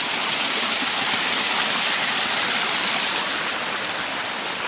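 A mountain stream cascades steeply down toward a gap along the Appalachian Trail, giving a loud, steady rush of broadband water noise that holds constant throughout with no talking.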